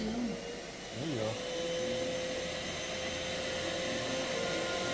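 A rebuilt Electrolux central vacuum runs in reverse with a steady, droning motor whir and a thin tonal whine, and voices briefly talk over it at the start.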